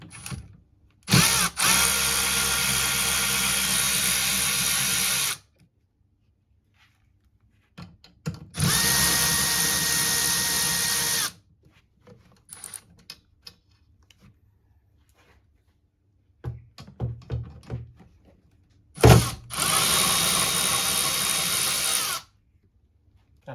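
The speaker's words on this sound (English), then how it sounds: "After that, we're going to grab our ratchet." A power ratchet removing 13mm bolts on a Mercedes makes loud whirring bursts of several seconds each, three main runs with quiet gaps and small clicks between, nearby and without talking.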